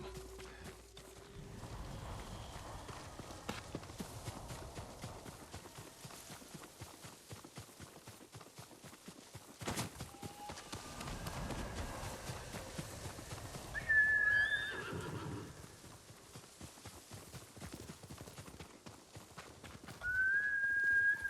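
A horse's hooves clip-clop steadily through Ghost of Tsushima's world, with a couple of whinnies breaking in near the middle and the end, set over a soft ambient background.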